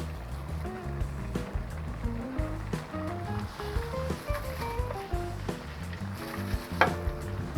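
Chicken pieces frying in a pan, a close, steady sizzle with stirring scrapes and a sharp clank near the end, no talk over it.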